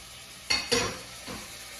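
A shrimp omelette with jalapeños stirred in a frying pan: two close scraping strokes, then a softer third, over a faint sizzle with no voices.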